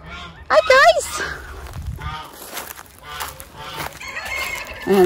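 Chickens, including naked neck hens, in a backyard chicken tractor, with loud squawking and clucking bursts near the start and end, mixed with ongoing background talk.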